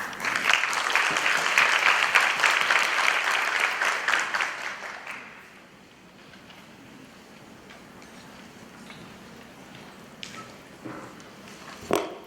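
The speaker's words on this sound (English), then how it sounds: "let's give her another round of applause" An audience at a health and wellness luncheon claps loudly for about five seconds, then the applause fades to a quiet room murmur with a few scattered taps.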